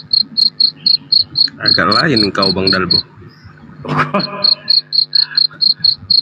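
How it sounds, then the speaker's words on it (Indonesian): Crickets chirp at night in a steady, regular pulse of short bright trills, clear and close, continuing under someone speaking briefly in the middle. "Jadi kenapa ada suara jangkrik tempatmu?"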